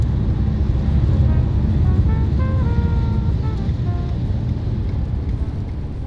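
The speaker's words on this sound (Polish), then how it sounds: "Pełzanko w deszczu trwa." Steady rain drums on a 2024 Mitsubishi ASX 1.3 M Hybrid as it creeps along slowly, a dense constant wash of noise from inside the car with faint tonal chimes briefly rising partway through.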